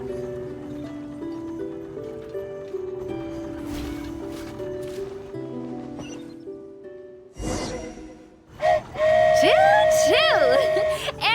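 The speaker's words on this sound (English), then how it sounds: "Choo-choo! Aerial Express moving out." Flying Aerial Express train in the Genshin Impact video game sounds its whistle, a loud, bright steam-style blast that bends in pitch, after a stretch of game music and a brief rushing whoosh.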